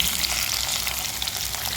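Bitter gourd pieces frying in hot oil in a pan, a close, steady, bright sizzle that carries on unbroken with no speech.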